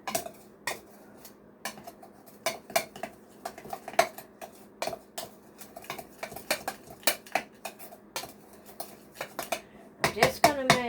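A spoon clinks and scrapes against a dish in quick irregular taps while taco seasoning spices are stirred together, close and fairly quiet, with a voice starting up at the very end.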